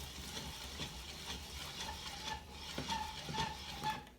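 A Tupperware Master System food processor chops onion on a counter. Quiet, rhythmic ratcheting and whirring repeats in quick pulls, close by and alone.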